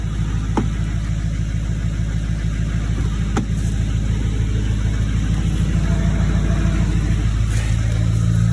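A tracked Can-Am ATV engine runs with a loud, steady mid-pitched drone and a rhythmic pulse, building slightly as it revs, with a few faint clicks on top.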